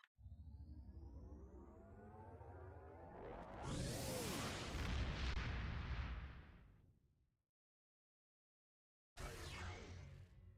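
Cannon fire in a video game: a loud, sustained explosive burst with a whooshing rush that swells and then cuts to silence, followed by another abrupt blast near the end.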